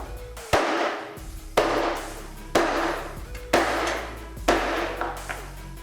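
Five loud hammer blows land about once a second, each a sharp crack followed by a brief ringing decay.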